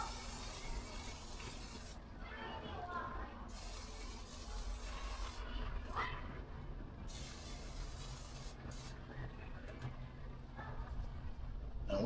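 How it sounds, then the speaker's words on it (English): Butter-flavor cooking spray hissing from a can onto seared ribeye steak, several short bursts with brief gaps, fairly quiet against a low background hum. "I'm gonna spray a little butter flavor cooking grease on there."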